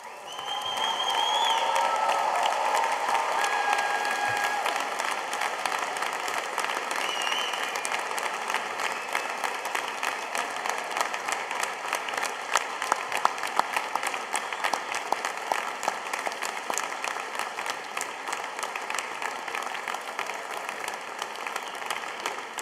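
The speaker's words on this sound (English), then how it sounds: "you're going to give them a really big round of applause" A long, sustained round of applause from a standing graduation ceremony audience honoring the graduates' supporters, dense crowd clapping that holds steady for over twenty seconds with a few whistles early on.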